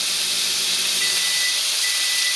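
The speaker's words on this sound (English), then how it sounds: "I want to turn it back over so it sears again some of that rosemary into the steak" Filet mignon sears in a pan with rosemary, making a loud, even hiss that stays constant and close, with no talking.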